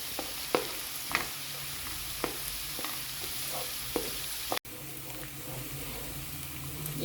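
Ginger garlic paste fries in a pan for mutton liver, giving a steady sizzle broken by several sharp stirring scrapes and clicks. The sound carries on alone at moderate loudness with no talk.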